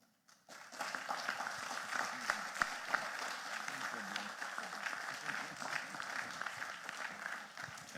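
A lecture hall audience breaks into sustained applause after Sir Hilary Beckles' lecture, dense clapping starting abruptly and continuing steadily, with faint voices mixed beneath it.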